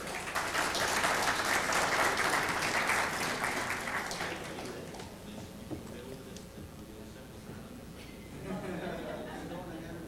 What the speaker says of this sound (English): give me a round of applause to welcome John to the stage